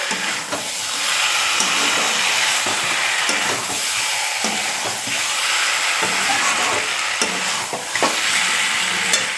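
Fish fries in oil over a high gas flame, a loud, continuous hissing sizzle with bursts of crackling and occasional stirring clatter, close and steady throughout.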